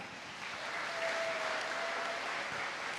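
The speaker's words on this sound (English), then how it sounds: "Let's give her a round of applause" An audience applauding at a university gathering on belonging at Hopkins, a steady wash of clapping from many hands, even and moderately loud, with no talk over it.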